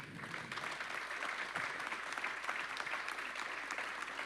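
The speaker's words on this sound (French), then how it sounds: "Merci à tous les deux, on vous applaudit chaleureusement" Audience applause fills a hall after a science talk on the brain, aviation crashes and surgery, a steady dense clapping wash held at even loudness for about four seconds with no voices over it.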